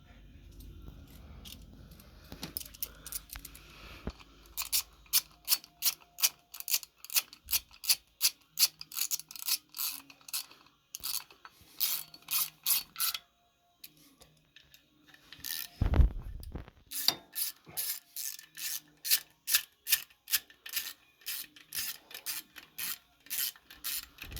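Bolts being screwed into a Harley Davidson timing cover, rapid rhythmic ratcheting clicks in bursts with short pauses between and a brief louder clunk midway, close and crisp.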